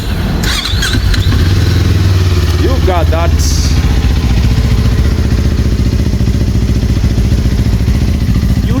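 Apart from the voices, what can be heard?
450cc motorcycle engine running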